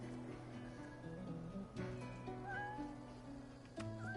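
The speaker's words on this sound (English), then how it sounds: "Should I also attack this cat?" A cat in the video game Divinity: Original Sin 2 gives several rising, drawn-out meows over a quiet, low background hum. No one talks.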